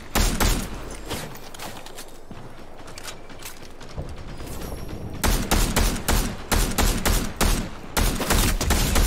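Gunfire in the Fortnite video game, with loud, rapid volleys of shots and sharp individual cracks over mechanical game noise, growing denser and louder in the second half.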